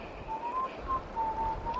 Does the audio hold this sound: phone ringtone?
no